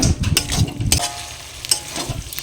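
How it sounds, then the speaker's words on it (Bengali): Chicken is sautéed with ground coriander and black pepper in a pan over a medium flame, giving a soft sizzle broken by scraping, clattering stirs near the start and then lighter occasional scrapes. "মশলা দিয়ে আরও আমি 2-3 মিনিট মিডিয়াম ফ্লেমে কষিয়ে নেব"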